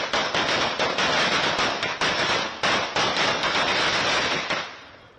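Firecrackers burst in a rapid, dense string at a CPM workers' celebration in Vanchiyoor, sharp cracks piling over one another for about four and a half seconds before the racket cuts off and fades, loud and close.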